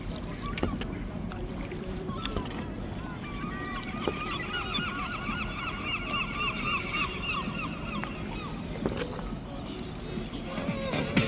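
Geese honk repeatedly on the River Liffey in Dublin, their calls rising over steady boat engine and water noise as a vessel travels along the city river.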